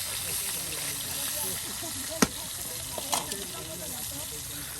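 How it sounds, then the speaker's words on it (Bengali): Tilapia fish heads deep frying in plenty of oil, a constant close bubbling sizzle with a couple of brief knocks. "আর এখন মাছের মাথাগুলো ভেজে নেওয়া হচ্ছে।"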